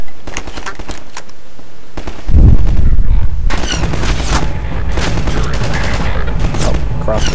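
Enemy gunfire in Half-Life 2: Episode breaks out in loud bursts of rapid shots and booms, with a person talking over the shooting.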